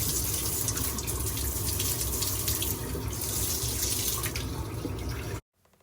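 Water rushes steadily from a tap while flushing chemicals out of a blocked boiler heating system during repair, a loud, close continuous gush that cuts off abruptly near the end, with no speech.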